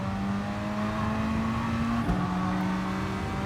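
Race car engines in GT Sport, a McLaren and Lamborghini in a manufacturer series race, drone steadily up close in a sustained high whine, with a brief pitch dip near the middle as the car lifts and pulls away again.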